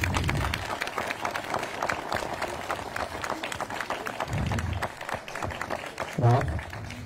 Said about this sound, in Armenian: Ասում եմ անունը ու ծափարում եք կհասկանանք արդեն ըստ բարձրության երևի աստիճանի։